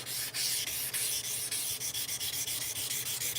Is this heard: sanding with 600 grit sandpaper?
yes